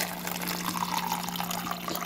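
A water bottle being refilled with water, a steady broadband rush of pouring liquid with a faint tonal hum beneath, continuous and fairly close for about two seconds, no voices.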